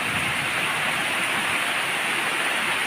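Pre-monsoon rain comes down near Pune as a constant, uniform rushing hiss, close and continuous with no pauses or talk.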